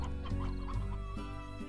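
Hens cluck in short repeated bursts during a chicken feeding in the Slime Rancher PC video game, steady and fairly close over a sustained droning game soundtrack.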